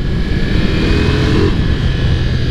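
A Ducati Multistrada V4S motorcycle engine roars loudly and steadily up close, its throaty rumble holding high revs with little change throughout.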